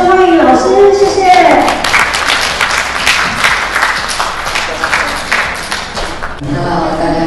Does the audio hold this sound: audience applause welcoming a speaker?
yes